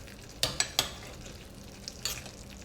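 Chutney with jaggery and salt cooks in a pan, a quiet low sizzle punctuated by a few sharp metallic taps and scrapes of a spoon against the pan.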